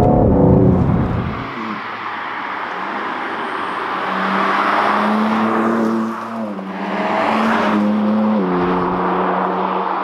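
A BMW G80 M3 Competition drives along countryside roads, its engine droning close and steady, pitch rising and falling as it pulls through gears, with no talking.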